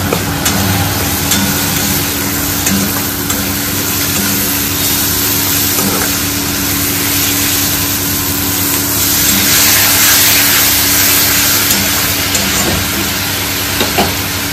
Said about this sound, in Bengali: বাটা, হলুদ, নুন সব দিয়ে মা এখন ভালো করে কষাচ্ছে।